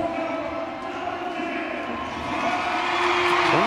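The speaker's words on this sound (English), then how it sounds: "The player introductions here are just being met with raucous applause here at CenturyLink Field." A stadium crowd at CenturyLink Field in Seattle cheers and applauds during player introductions for a US Women's National Team soccer match against Brazil, a distant roar under a commentator's voice that swells toward the end.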